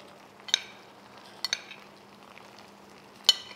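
Rice with Burgos morcilla cooking in a pan and being stirred: a faint, steady low sizzle broken by three light scraping clinks of a utensil against the pan.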